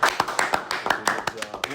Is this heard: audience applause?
yes